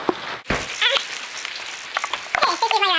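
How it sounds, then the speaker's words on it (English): Rain falling outdoors, a steady crackling patter like sizzling, with a voice speaking over part of it. "Oh, it is raining again."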